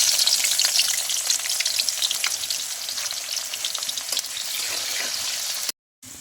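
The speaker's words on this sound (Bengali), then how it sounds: "পেঁয়াজটা লাল করে ভেজে নেব।" Onions fry in hot oil until browned, giving a loud, continuous close sizzle with crackling hiss. The sound is unbroken until a brief cut near the end, and no voices are heard.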